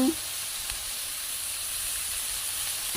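Pork skin frying in a pan over medium-high heat with a little added water, a steady bright sizzle and hiss running throughout, close and fairly loud, with an occasional faint stir.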